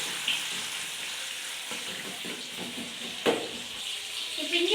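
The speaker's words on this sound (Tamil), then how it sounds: "இப்போ வெங்காயம் மிளகாய் போட்டுக்கலாங்க தாளிப்புக்கு. நல்லா வணக்கி விட்டுக்கலாங்க." Onions and green chillies sautéing in a pan for tempering, giving a steady soft sizzle and crackle with occasional stirring clinks, moderately close and continuous throughout.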